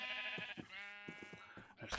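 Several short sheep bleats from Minecraft, clear and close, with tonal electronic game music running continuously underneath.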